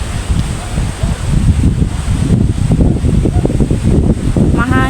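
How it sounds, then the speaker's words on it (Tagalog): Strong coastal wind on Boracay, steady roaring gusts buffeting the microphone for several seconds, loud and close with a rustling texture and no clear speech. "Mahangin."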